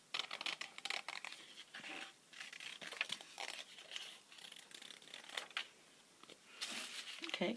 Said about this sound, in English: Then I'm going to cut around the circle.